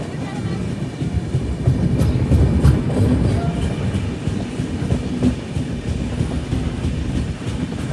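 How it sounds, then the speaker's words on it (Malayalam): The Yesvantpur–Sindhanur Express rumbles steadily along the rails with a continuous clatter of wheels and carriage noise, loud and close from inside the train. "ട്രെയിൻ ഇപ്പോൾ മുനീറാബാദ് സ്റ്റേഷനിലെത്തിയേ"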